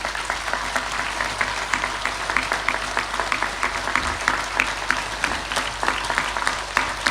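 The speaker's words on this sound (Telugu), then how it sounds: "స్వామీజీ వారికి గట్టిగా చప్పట్లు కొడతాం." An audience at a gathering claps for a Swamiji with sustained, dense applause, many hands clapping steadily at a constant level through the whole stretch.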